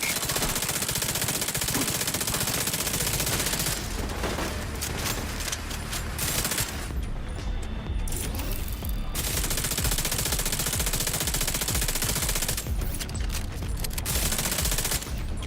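A deployed turret in The Division 2 fires in long, loud, rapid automatic bursts with brief gaps between them, sustained gunfire dominating the scene.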